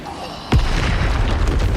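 An Expulso spell explosion in Hogwarts Legacy: a single sharp, loud boom bursts in after a quieter moment, followed by rumbling, crackling debris that lingers.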